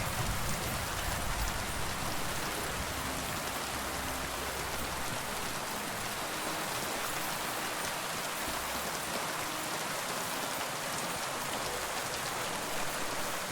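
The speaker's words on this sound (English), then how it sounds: "You guys need to get out of the rain." Steady, dense rain from the video game Kingdom Come Deliverance 2, a continuous even hiss of falling drops on surfaces, loud and unbroken throughout.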